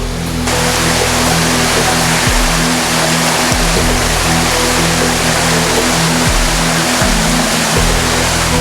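A swift, swollen river rushes steadily after a flash flood and landslide in Tapanuli, Indonesia, a loud unbroken roar of churning water with a faint low mechanical hum beneath.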